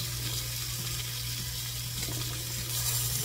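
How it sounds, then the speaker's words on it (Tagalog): Hands are washed under a running kitchen tap while a pinakbet Bicol vegetable dish is being cooked, a steady close water stream with faint splashing, alone with no talk, and a low constant hum beneath. "Guys, nagugas ako guys ng kamay ko, ha?"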